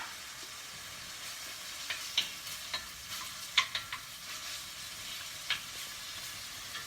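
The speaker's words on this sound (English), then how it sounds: "So I'm going to fry up a little bit of bacon, which I cut up." About three strips of chopped bacon fry in a pan for paella, giving a steady close sizzle with scattered sharp pops and spits and a few light stirring clicks; nobody speaks.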